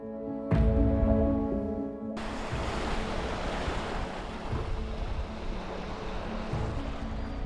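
Surf of the Irish Sea washing steadily onto the coast at Prestatyn, North Wales, a continuous broadband roar with wind buffeting the microphone, after a brief quieter tonal moment at the start.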